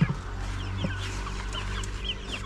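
Backyard chickens, no longer chicks, cluck steadily in a yard while being fed rice bran, a few louder clucks near the start rising over a constant low hum.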